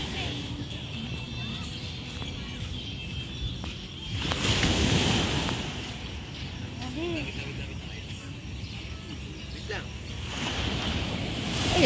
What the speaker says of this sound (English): Strong wave.